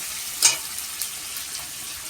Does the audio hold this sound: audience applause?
no